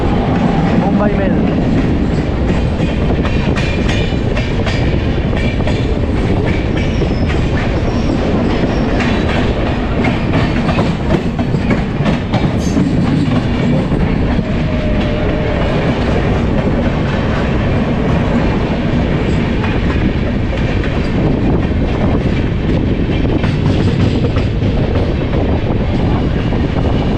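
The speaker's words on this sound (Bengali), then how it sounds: "আমাদের ট্রেনও ঢুকছে শক্তিগড়, আর ওইটা শক্তিগড় ছেড়ে যাচ্ছে মুম্বাই মেল।" Intercity Express rolling into Shaktigarh station, heard from on board as a loud, continuous rumble of wheels with rhythmic clickety-clack and a steady hum, persisting throughout with possible faint voices underneath.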